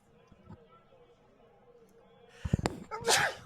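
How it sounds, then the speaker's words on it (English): A single sharp sneeze bursts out close to the microphone during a baseball game broadcast, preceded by a quick inhale and followed by a breathy exhale over faint background crowd noise. "I don't have a mute button to mute myself as I sneeze"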